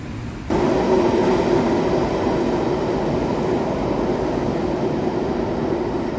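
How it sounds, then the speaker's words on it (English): Train approaching on the rail tracks, a heavy steady rumble that swells suddenly near the start and then holds loud and continuous with a faint metallic tone. "it sounded like a train coming"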